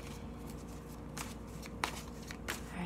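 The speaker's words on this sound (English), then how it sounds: "We're just giving them one last good shuffle to really connect to your energy." Tarot cards shuffled by hand, a few quick riffling bursts over a low steady room hum, close and fairly soft, without speech.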